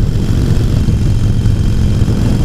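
Harley-Davidson Iron 883 with its Evolution engine rumbling through the exhaust, a steady, loud low-pitched burble with an uneven, off-beat pulse, heard alone.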